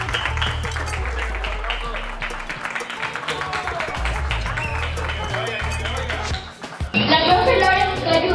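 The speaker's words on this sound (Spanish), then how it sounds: "Demos un fuerte aplauso." Audience applause with dense clapping mixed with crowd noise and a voice over it, continuing steadily for several seconds before a louder, brighter burst near the end.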